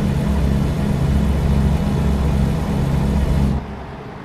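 A Volvo truck engine in Euro Truck Simulator 2 drones steadily at a low, heavy rumble for a few seconds, then cuts out abruptly, leaving only a faint residual hum.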